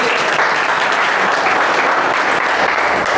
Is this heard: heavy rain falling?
no